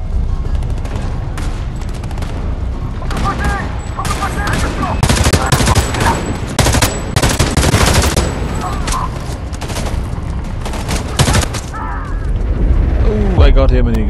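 Dense bursts of automatic gunfire and single shots crack out in a firefight in the video game Homefront: The Revolution, loud and nearly continuous, with in-game voices talking over the shooting.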